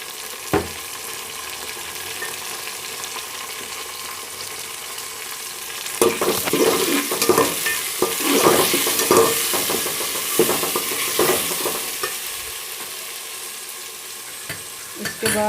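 Green chillies fry and get stirred in a pan while making chana pulao, a steady sizzle with scraping stir strokes growing busier and louder partway through, then settling back down.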